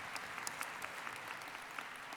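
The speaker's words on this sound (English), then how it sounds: "Really, you can clap for that too." Graduates at a spring undergraduate commencement ceremony applaud steadily, a broad crowd of many hands clapping at an even, moderate distance with scattered sharper claps standing out, no voices over it.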